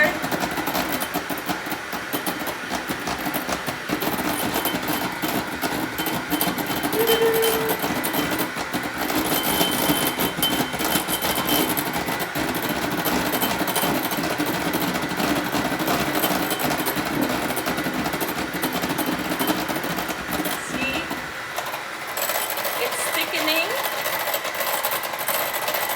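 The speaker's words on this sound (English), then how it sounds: "So whipping some cream." An electric mixer whips cream for a pavlova with a steady, loud mechanical whir that runs almost the whole time, then drops to a lower tone near the end.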